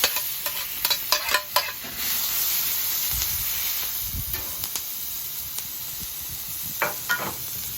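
Pork and vegetables sizzle on a flat top grill with a little oil, salt and pepper: a constant close hiss with intermittent scraping and stirring clatter from a spatula, no talk.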